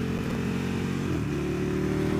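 A KTM Superduke R motorcycle engine while riding, a steady, close-up mid-range drone with a slight shift in pitch partway through as the engine changes speed, no voices.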